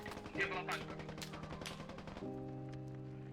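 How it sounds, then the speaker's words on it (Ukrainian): Bursts of rapid gunfire in the video game Squad crackle and pop over a steady synthetic background hum, with a voice speaking briefly under the shots. "Це, по-моєму, ворог, да, стріляє."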